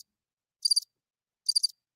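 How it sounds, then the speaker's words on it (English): A cricket chirping sound effect: two short, bright trilled chirps spaced under a second apart, crisp and isolated against total silence. "crickets"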